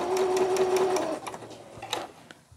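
A sewing machine stitches jersey fabric for a bra, running in a steady, close hum for about a second before stopping, followed by light handling clicks and rustles.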